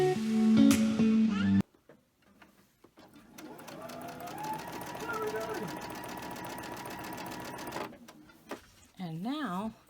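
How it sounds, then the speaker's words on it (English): A sewing machine chain-stitches cotton fabric pieces in a steady, close mechanical whir that runs for several seconds. Brief talk comes before and after it. "Just take them and chain stitch them."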